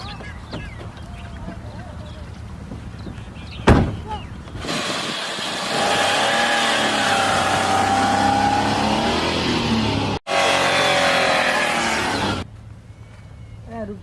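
A car engine starts and revs, building to a loud, steady roar as the car pulls away, broken by a brief cut before the engine drops off; voices are faintly audible at the start.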